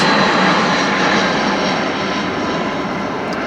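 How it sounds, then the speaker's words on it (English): Aeroplanes on a flight path roar overhead as a loud, steady, unbroken drone that eases only slightly toward the end, with no voices. "Sorry, please excuse the aeroplanes. We're on a flight path and it's literally every 2 to 3 minutes."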